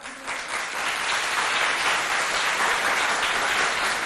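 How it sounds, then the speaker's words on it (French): Schoolchildren in a school hall in Mao applaud as a crowd, giving a dense, steady roar of clapping that holds loud and unbroken from start to finish. "Applaudissez-vous bien fort."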